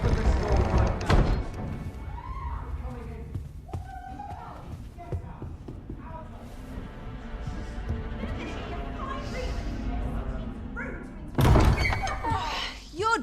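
Heavy thuds of a door being pounded in the Dragon's Dogma 2 video game, a loud burst at the start and another near the end, with voices and ambient game sound between.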